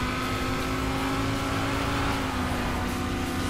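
A race car engine droning at low revs in Need for Speed ProStreet, a steady, loud, constant hum with no gear changes over a few seconds.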